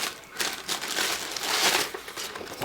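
Pink tissue paper crinkles and rustles in bursts as it is handled inside a hijab subscription box, close and fairly loud with no talking over it.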